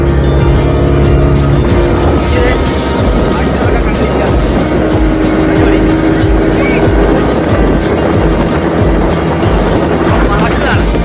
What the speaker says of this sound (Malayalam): ഇതാ നമ്മുടെ ബോട്ട് കടലിലേക്ക് ഇറങ്ങിയിരിക്കുകയാണ്. പായുകയാണ്.